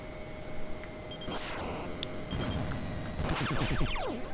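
Missile warning alarm from the NES game Top Gun, a repeated electronic beeping tone over busy game noise, with short bursts of tonal bleeps recurring through the clip.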